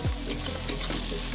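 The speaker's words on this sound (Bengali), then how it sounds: "এরপর সব কিছু একবার তেলের সাথে বেশ ভালো করে মিক্স করে নিচ্ছি।" Chopped green chillies and onions stirred into hot oil in a pan for dhaba-style paneer masala, a brief close sizzle broken by a few soft scrapes of a spoon.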